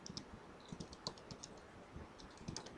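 Soft, quick clicks of typing on a computer keyboard, faint and irregular, close by with no voices.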